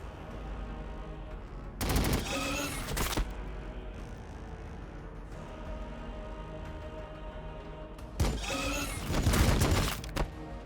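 Gunfire in the Warhammer 40000 Battlesector video game: two loud bursts of rapid shots, each lasting about a second, separated by a stretch of low background game noise.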